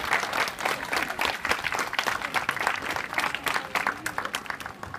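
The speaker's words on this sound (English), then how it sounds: "And give him a nice round of applause." An audience at a sea lion show claps together in a dense, steady burst of applause that holds for several seconds, with faint crowd murmur underneath.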